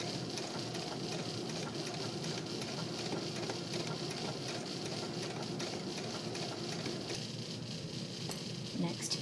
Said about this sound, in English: I'm going to use this hand wheel just to sneak a few stitches in here all the way up over that pin